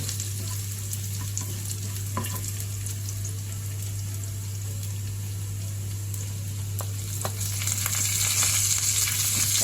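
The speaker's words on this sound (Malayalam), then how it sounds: "ഇതിലേക്ക് ഈ ഉള്ളിയൊക്കെ ഒന്ന് ബ്രൗൺ നിറമായതിന് ശേഷം നമുക്ക് ഒരു തണ്ട് കറിവേപ്പിലയും കൂടി ഇതിലേക്ക് ചേർക്കണം" Browned onions and curry leaves frying in a pan for chutney: a continuous, close crackling sizzle with occasional stirring scrapes, over a constant low hum, with no voices.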